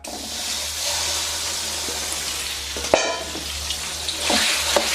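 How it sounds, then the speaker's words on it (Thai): Pork stir-frying in hot oil in a home kitchen pan, a steady close hiss and sizzle with scattered small clatters and crackles, no voice. "พอน้ำมันเริ่มร้อนนำหมูลงไปผัดได้เลยครับ"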